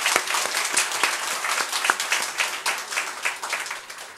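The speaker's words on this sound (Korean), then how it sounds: "우리 살아계신 하나님께 박수 한번 하십시다" A church congregation at a Sunday service bursts into applause for God, with brisk, dense clapping from many hands holding steady for several seconds and then slowly easing off.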